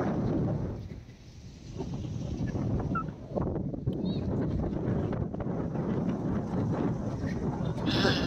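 Wind blows steadily across the microphone at a Goa beach, with the dull roar of sea waves underneath, a brief lull near the start and otherwise continuous, loud rushing with no speech.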